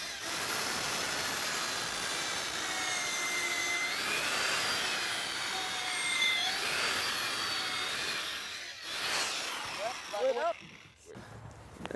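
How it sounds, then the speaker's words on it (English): An auger bit bores a hole into a wooden handrail post on a new deck, a continuous whirring drill whine that runs steadily for several seconds before stopping, followed by brief scraping handling sounds. "So I'll just drill the hole"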